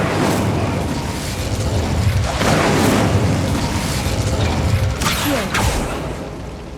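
Fire-blast spell detonating in Hogwarts Legacy combat, a sustained loud booming roar with rumbling bursts and a couple of sharper cracks near the end, dense game effects throughout.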